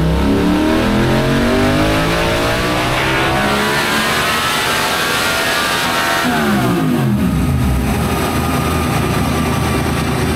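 A Yamaha MT-07 motorcycle engine revs hard on a brake dyno during tuning, climbing through loud sustained sweeps, dropping back, then rising again in a continuous close roar with no talk.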